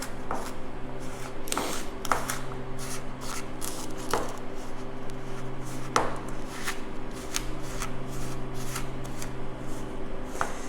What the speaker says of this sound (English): as you work the sugars in and combine them with the margarine